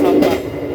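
Steady low rumble inside the long-distance Gumarang passenger train in Indonesia, a continuous rolling drone with a faint murmur of voices underneath.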